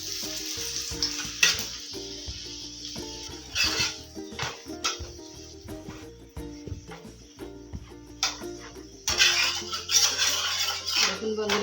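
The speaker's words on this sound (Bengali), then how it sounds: "এপিট উপিট ভাজা হয়ে গেছে এখন আমি তেল দেবো" Soft sizzling of a yogurt paratha frying in oil in a pan, broken by frequent clinks and scrapes of a utensil against the cookware.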